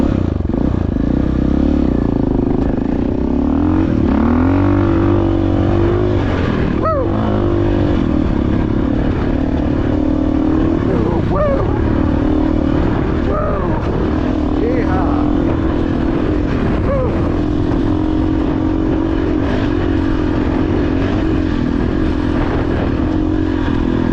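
A 2025 KTM 500 dirt bike rides over trail breaks on Dr Park trail in Crested Butte, its engine a loud, close, continuous roar that surges and dips with throttle as the bike bounces, with clattering thumps throughout.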